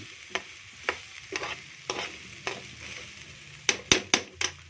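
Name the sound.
stirring the marinated mixture in a pan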